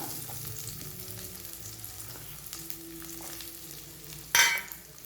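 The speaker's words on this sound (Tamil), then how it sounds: "இப்போ இதையும் 1 நிமிஷம் லேசாக வதக்கி விட்டுக்கலாம்." Small shallots sauté in a pan for a spinach masiyal, giving a soft, steady sizzle with light stirring scrapes, then a sharp metallic clank near the end; no talk.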